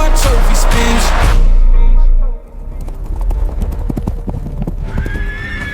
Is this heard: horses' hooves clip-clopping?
yes